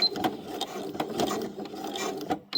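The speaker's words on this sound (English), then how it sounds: "I'm using a really old, cheap sewing machine to do this." An old, cheap sewing machine stitches a fabric patch in short mechanical bursts, clattering and ticking in an uneven rhythm, close and fairly quiet, with no talking.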